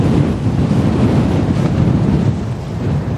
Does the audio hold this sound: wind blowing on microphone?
yes